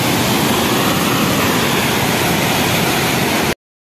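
Floodwater in Chandni village rushes past a broken culvert in a loud, unbroken broadband roar. It cuts off abruptly just before the end.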